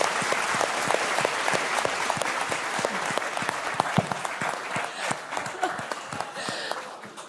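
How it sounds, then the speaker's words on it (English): A large audience at the NDTV Indian of the Year 2025 awards ceremony applauds loudly and steadily, dense clapping sustained for several seconds before slowly thinning toward the end, with no voices over it. "Huge round of applause for Professor Madhvi Lata."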